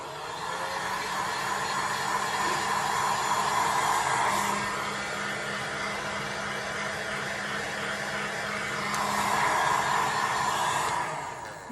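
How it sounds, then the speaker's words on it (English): A heat gun on its lowest setting, warming silicone from a little distance, makes a steady close blowing whoosh with a constant motor hum. It swells slightly louder twice, around four and nine seconds, and no one speaks. "I'm going to get my heat gun now, and I put it on the lowest heat that I possibly can"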